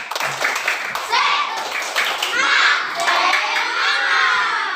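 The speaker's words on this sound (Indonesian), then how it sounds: "marilah kita tepuk semangat." A school class doing the Indonesian 'tepuk semangat' rhythmic clap chant, children clapping in patterned beats while shouting and chanting along together, loud and close, with a teacher's voice mixed in.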